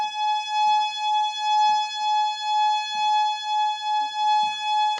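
A harmonium under home repair sounds two reeds together in one long steady held chord, loud and close, with faint clicks and handling noises underneath.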